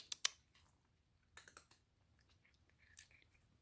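Dogs crunch chicken and waffle treats in a few quick, sharp bites near at hand, then more scattered, softer chewing follows, with no talking.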